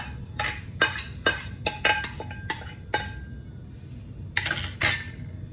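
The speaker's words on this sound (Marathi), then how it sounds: "दुधाला आता चांगली उकळी फुटलेली आहे. त्यात घालून घेऊया आपल्या ह्या शेवया." A metal spoon clinks against a pot as vermicelli is stirred into boiling milk for kheer, with a run of quick, sharp clinks, a short pause, then a few more near the end.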